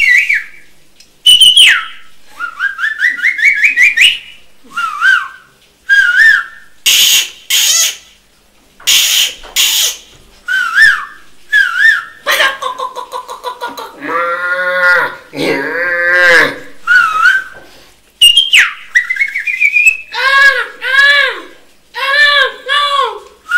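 A performer at a Chhollywood film team interview mimics animals and birds, loud and close. Whistled chirps, warbles and trills alternate with cow-like moos and other calls in quick, varied bursts separated by brief silences.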